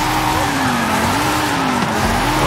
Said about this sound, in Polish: Bączkujemy.